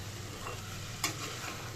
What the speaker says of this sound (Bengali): ঘিটা যখন গরম হয়ে যাচ্ছে ডালিয়াটাকে কিন্তু আমি ভেজে নিচ্ছি